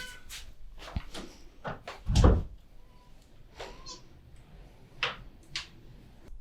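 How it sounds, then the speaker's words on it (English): A house cat in an art studio gives a couple of short, soft meows amid scattered knocks and rustling, with quiet room tone in between. "my cat needs attention."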